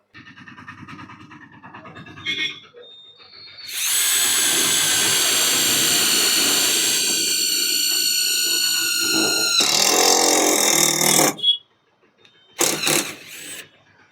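A Makita cordless impact driver drives screws into a metal plate, giving a loud, sustained whirring buzz for several seconds, a short second burst, then brief final spurts.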